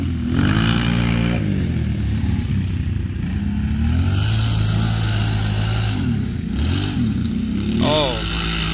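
A Kawasaki Brute Force 750 ATV on bald stock tires works hard beside a Can-Am Renegade XMR 1000, its engine roaring and revving in rising and falling surges with clattering, while voices talk over it.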